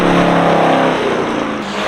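Race cars, among them BMW E36, M2 and E90 models, lapping Summit Point Motorsports Park on a track day; loud, continuous engine roar with overlapping cars, a dense steady drone that eases slightly near the end, no voices.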